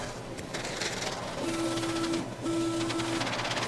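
A film printer feeds film through with a steady mechanical whir, and a thin motor whine sounds in two stretches under the low rumble of a workshop.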